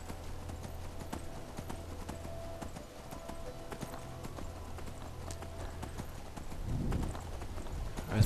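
Horse hooves clip-clop in a steady rhythm in the video game Skyrim, faint and continuous under a low ambient drone, growing a little louder near the end.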